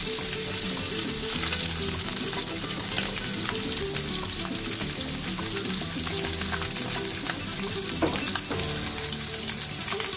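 Lamb sweetbreads fry in hot oil with a dense, continuous crackling sizzle, close and loud, sharp pops spattering now and then above it.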